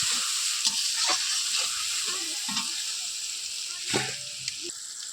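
Spices sautéing for a mutton curry give off a steady close sizzle, broken by several scraping stirs and clinks of a utensil against the pan.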